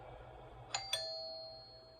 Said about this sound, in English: Suddenly, the doorbell rang.